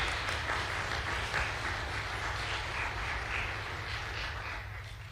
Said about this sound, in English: one more round of applause for that overture